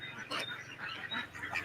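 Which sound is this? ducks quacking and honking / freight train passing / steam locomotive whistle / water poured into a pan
ducks quacking and honking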